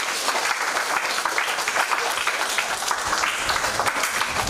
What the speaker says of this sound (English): So give yourselves an applause for that.